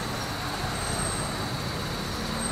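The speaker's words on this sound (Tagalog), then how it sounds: "Ayan o, traffic," Road traffic on a congested stretch near the ML Quezon exit in Antipolo gives a steady, dense wash of vehicle noise. The sound is constant with no distinct passes and no talk.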